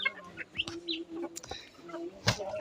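Hens cluck and Muscovy ducklings peep in short bursts close by while eating, with scattered pecking and scratching noises between the calls.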